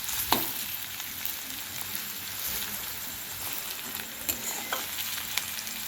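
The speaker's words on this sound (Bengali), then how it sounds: "এই যে পেঁয়াজ দিয়ে দিলাম সত্যি কথা বলতে অঙ্কিতা এখানে পেঁয়াজটা প্রায় ভাজা ভাজা হয়ে এসেছে" Onions and big green chillies fry in a pan with a steady, crackling sizzle. A few sharp stirring scrapes stand out over it, and no one speaks.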